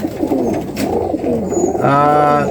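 Pigeons coo close by in a loft where a pair has already settled, soft rolling calls repeating over about two seconds, one louder coo near the end, no talk.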